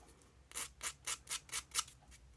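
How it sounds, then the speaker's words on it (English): Six quick, even rasping strokes of an emery board filing back and forth, close and fairly quiet. "Yes, an emery board right here."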